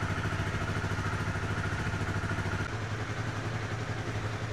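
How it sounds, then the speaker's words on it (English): A 2013 Honda CBR250R single-cylinder engine idles close by, a steady, even low putter with faint mechanical clatter, dipping slightly in level partway through. "leave the engine on the idle for at least 10 minutes"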